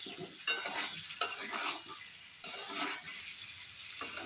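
Potato and cauliflower fry in a pan over raised heat, a steady close sizzle broken by a few sharp stirring scrapes of a spatula, with no one talking.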